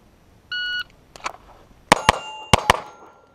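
Four 9mm pistol shots from a Wilson Combat CQB ringing off steel targets at a range, in two quick pairs with sharp metallic clangs, preceded by a short shot-timer beep.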